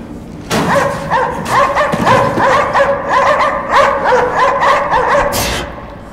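Dogs barking repeatedly in Anabiosis: Dream of the Reason, a steady run of loud, close yaps and barks with a few whimpers, filling the whole stretch with no talk over them.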